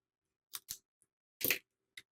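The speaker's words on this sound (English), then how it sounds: "I'm just going to use scissors to cut it out" Scissors snip through paper while cutting out a traced shape, a few short, crisp cuts spaced apart in near silence, close to the listener.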